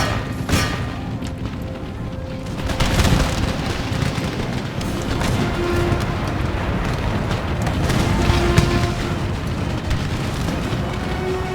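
Cannon fire in Empire: Total War, a heavy sustained battle rumble with booming, thunder-like blasts rolling continuously at close range, with no clear pauses between shots.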